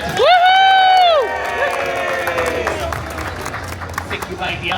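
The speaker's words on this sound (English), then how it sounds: "let's give a big round of applause to our Little Red Riding Hood" An audience at a Busch Gardens Williamsburg storytime show applauds and cheers for the Little Red Riding Hood performer, a steady crowd clapping and babble that follows a loud sung or called-out voice.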